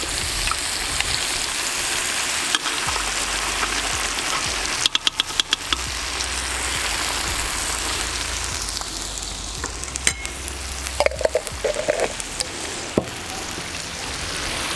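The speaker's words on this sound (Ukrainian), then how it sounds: "Обжарим немножко томатную пасту." Tomato paste sizzles and spits steadily in a hot cauldron while frying for borscht, with occasional scraping and clinks of stirring, close by.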